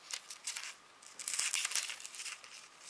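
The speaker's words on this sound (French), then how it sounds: "Donc, je vais le couper en deux." A paper embellishment being cut in two gives a short burst of close crinkling and rustling, with irregular snips and paper handling scattered across a few seconds.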